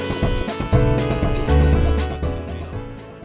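Video game music plays where a monster theme swells in early: layered synth tones and sustained low notes build and fade over a few seconds, with no voices.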